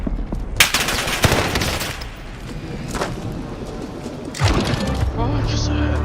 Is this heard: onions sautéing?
no